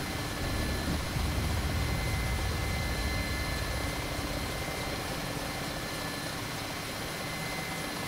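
Mi-8 helicopter in DCS World, its rotor and engine drone steady and loud throughout, a dense broadband roar with no voices.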